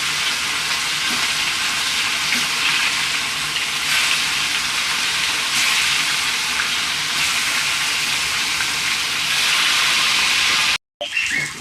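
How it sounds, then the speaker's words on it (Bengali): Fish frying in hot oil in a kitchen pan, a steady loud close sizzle and hiss running almost without change, briefly cutting out near the end before resuming. "মাছগুলো ওই তেলে ভাজা নেবে।"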